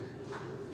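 Soft, low cooing of pigeons, a faint steady murmur over a short moment, with no voices.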